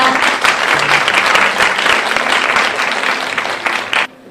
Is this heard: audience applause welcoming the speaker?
yes